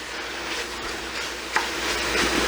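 Meat browns in a pot for chili, giving a constant close sizzle and light scraping that grows a little louder near the end, with no talking.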